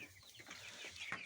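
Tiger chickens and farm chickens kept in a shed at night make faint, scattered clucks and soft calls at low volume with no voices.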